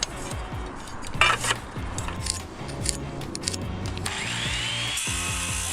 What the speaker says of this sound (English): I needed to trim the tops of the 4 middle posts to size